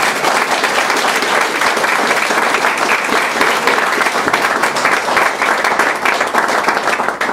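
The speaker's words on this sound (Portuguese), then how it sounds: "Aplauda esse Deus por isso." A church congregation applauds God, loud, dense clapping that keeps up steadily throughout without any speech.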